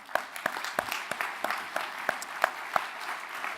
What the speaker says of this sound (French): donc on peut applaudir Catel Leduc.